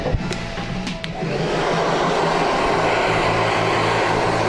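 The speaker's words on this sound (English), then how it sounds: "get the blow dryer, get it nice and dry" Steady, loud whoosh of a blow dryer drying hair in a barbershop, running continuously up close after a brief click and clatter at the start.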